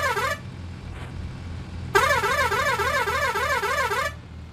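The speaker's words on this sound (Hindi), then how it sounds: "आखिर में आके थोड़ा बहुत हॉर्न तो बजाना चाहिए।" In the Indian Bus Simulator video game, a bus horn sounds in a short blast, then after a pause blares continuously for about two seconds with a warbling, musical pattern over a low engine rumble.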